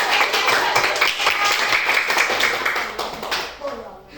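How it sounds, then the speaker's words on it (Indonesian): A classroom group clapping together at a teacher's request, a dense run of hand claps that fades out near the end, with voices mixed in. "Kasih tepuk tangan dulu biar semangat"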